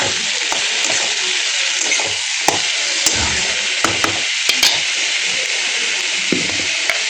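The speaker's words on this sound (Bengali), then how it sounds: "যে টমেটোও ভাজা হয়ে গেছে ভালো মতন, এখন আমি এতে দিয়ে দেবো এই বেগুন ধুয়ে রেখে দিয়েছিলাম, বেগুন দিয়ে দেবো" Eggplant and tomato fry in a pan with a loud, steady sizzle, while a utensil stirring the vegetables adds scattered scraping clicks throughout. No one speaks.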